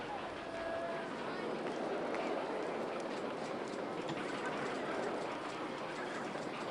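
Roller coaster train rolling along its track in RollerCoaster Tycoon 2, a steady rumbling clatter that holds at constant loudness throughout, with faint talking underneath.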